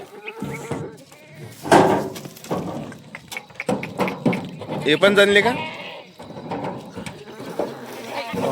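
Kathewadi goats bleat several times, loud and close, mixed with someone talking nearby.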